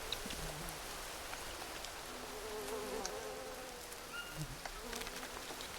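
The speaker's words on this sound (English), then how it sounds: "Oh, I can hear bees." Bees buzz in the Green Hell survival video game, a steady insect drone with faint wavering hums running through a soft, rain-like wash of jungle ambience.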